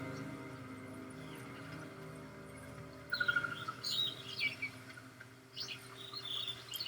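Birds chirp in the Blood Elf starting area of World of Warcraft, faint scattered tweets over a low, steady game ambience, coming in short bursts in the second half.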